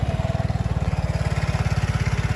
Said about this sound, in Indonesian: Meskipun ya iGate itu suara idolnya halus banget